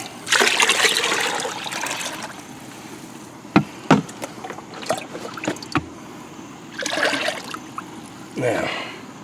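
Worm tea and fish emulsion are poured from a container onto potted turmeric plants, with bursts of splashing liquid, a few sharp knocks of the container, and trickling between pours.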